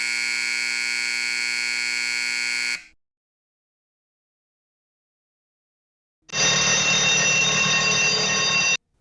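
Viking CTG-2 tone generator sound files: a steady electronic buzzer tone for about three seconds, a pause, then a second brighter, buzzier alarm-like tone, loud and without speech.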